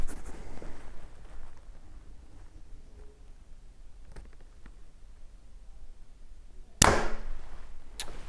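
A Mathews VXR compound bow fires an arrow through a chronograph in a quiet setting, one sharp, loud snap late in the clip with a quicker, fainter tick just after.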